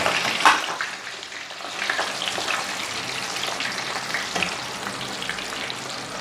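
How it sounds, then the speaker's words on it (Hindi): French fries deep frying in hot oil make a dense, steady crackling sizzle like rain on a surface, close and even throughout with a few sharper pops, no talk. "ये अच्छी तरह से फ्राई हो रही है। ये देखें आप, इसकी आवाज़ भी चेक करें"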